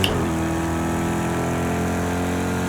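A car engine in a sim racing video game holds a steady, droning tone with layered harmonics, loud and continuous, with no voice over it.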